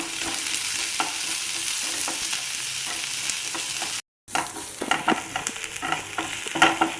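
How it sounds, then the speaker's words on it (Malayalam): Crushed shallots and garlic sizzle and crackle steadily as they are stirred in hot coconut oil. The sound breaks off briefly, then returns with sharper spatters and scraping. "ചൂടായ വെളിച്ചെണ്ണയിലേക്ക് ഒരു 5 ചുവന്നുള്ളി ചതച്ചത്, 4 വെളുത്തുള്ളി ചതച്ചത്, എന്നിട്ട് നമുക്കൊന്ന് ഇളക്കി കൊടുക്കാം."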